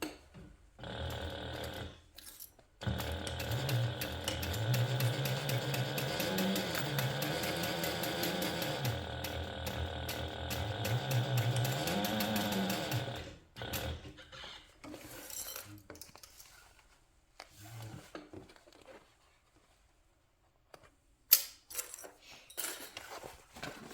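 A sewing machine runs a steady stitching burst for about ten seconds while sewing a half-inch seam on a handbag, then stops, followed by scattered handling clinks and rustles.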